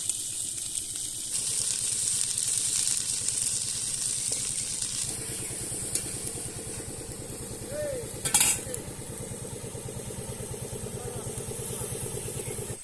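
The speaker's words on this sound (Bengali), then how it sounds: "আর আলু আর আমাদের কাঁকড়াটা কষিয়ে নিচ্ছে দাদা বেশ ভালো করে" Crab and potatoes being stir-fried in a pan during outdoor cooking in the Sundarbans: continuous soft scraping and utensil clinks over a steady low hum, with one brief louder clatter partway through.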